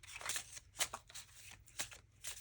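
A deck of cards is shuffled close up and quietly, making several short riffling and flicking bursts in an uneven rhythm with brief pauses between them.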